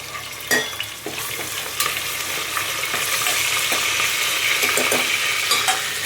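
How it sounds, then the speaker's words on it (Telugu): Dal rasam simmering in a pot while a spoon stirs it, giving a steady bubbling hiss with a few scraping knocks against the pot, close and moderately loud, with no talking. "ఒక పొంగు వచ్చేంత వరకు మధ్యలో ఒక 2-3 సార్లు కలుపుకోవాలి"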